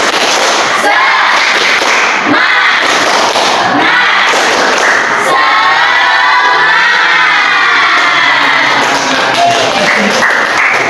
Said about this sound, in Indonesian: Bapak mau ngajak kalian buat tepuk tangan.